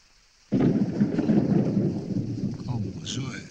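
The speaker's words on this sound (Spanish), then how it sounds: "¿Cómo llueve?" Heavy rain with thunder: a sudden loud rumble of thunder breaks in and rolls on for several seconds over a steady wash of pouring rain, fading slightly toward the end.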